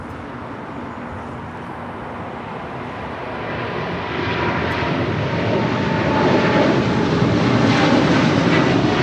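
A Korean Air Cargo Boeing 777, flight 274, powers up for takeoff on runway 25 left at Los Angeles International Airport, its jet roar building steadily louder over nine seconds, broad and continuous with no talk.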